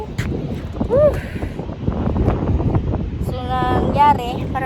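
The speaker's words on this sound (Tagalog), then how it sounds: "Ang ganda ng hangin." Wind at sea buffets the microphone in low, gusty rumbles, loud and close, while people talk over it almost continuously.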